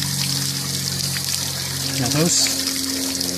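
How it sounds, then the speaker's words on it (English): Water trickles and drains out of a Suburban hot water heater in a small Forest River camper as it is flushed to clear scale, a steady dribbling wash under a voice. "we're going to flush this with water until all that scale comes out"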